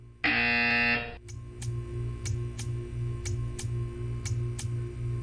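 A loud, steady electronic buzzer in the video game Portal 2 blares for about a second, then stops, followed by a quiet, regular ticking like a clock.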